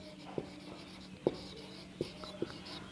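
Writing out matrix columns during a Class 9 mathematics lecture: a few faint scratchy taps and short strokes spaced irregularly over a low steady room hum.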